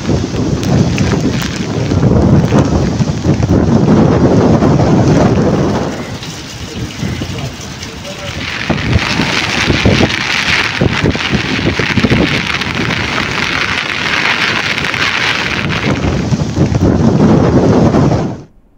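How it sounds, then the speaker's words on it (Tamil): Rough sea with giant waves over ten feet high pounds the coast at Chennai's Semmancheri Kuppam during Cyclone Fengal, a loud continuous roar of surf and wind that swells, eases briefly, then surges again. "கடல் சீற்றம் காரணமாக 10 அடிக்கு மேல் எழும்பும் ராட்சத அலைகள்"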